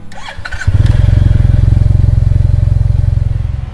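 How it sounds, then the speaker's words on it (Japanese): A Yamaha T-MAX motorcycle engine starts with a brief whine, then settles into a loud, close, steady low exhaust rumble with a fast even pulse that holds throughout. "こうして T-MAX のサウンドは研ぎ澄まされてきた。"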